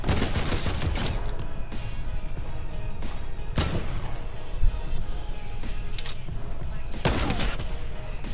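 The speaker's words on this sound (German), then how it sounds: "Das ist ein Trommelgewehr." A drum gun firing in Fortnite: repeated sharp bursts of automatic gunfire across the whole stretch, with louder cracks spaced a few seconds apart under ongoing game noise.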